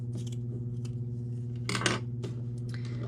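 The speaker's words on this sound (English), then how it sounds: "Cut the excess at the same length" Scissors snipping off excess crochet yarn ends for a tassel, several crisp close cuts with one longer burst of snipping midway over a low steady hum.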